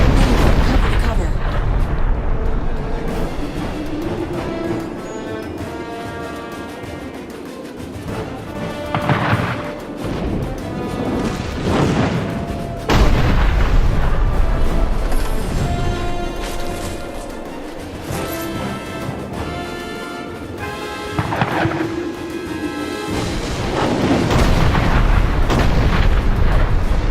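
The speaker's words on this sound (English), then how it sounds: "The Azunite gunners have us in their sights." Azunite gunners fire in Dungeon Siege III, heavy booming shots and crashing impacts rolling over a loud, dense battle backdrop with game voices speaking throughout.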